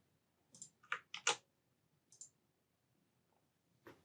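A computer mouse clicks a handful of times in quick, quiet taps near the microphone, with one or two isolated clicks following after short gaps in an otherwise silent room.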